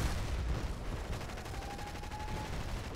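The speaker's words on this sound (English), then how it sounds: "Mortar strike on the flag." Mortar strike in a video game battle, a dense rumbling barrage of distant explosions and rapid gunfire rattling continuously, loud and layered throughout.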